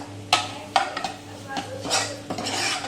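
Prawn chilli sauce being mixed in a bowl with a utensil, giving light clinks and scraping strokes at an uneven rhythm, close and fairly quiet over a low background hum.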